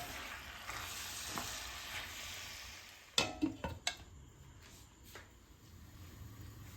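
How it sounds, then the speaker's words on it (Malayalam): A spoon works through vegetable dum biryani in a pot: a soft sizzling bed, then a quick burst of scraping and clinks against the metal, then quieter sizzling again with a faint scrape. "ഇടയ്ക്ക് ഇളക്കി കൊടുക്കണം ഇതുപോലെ"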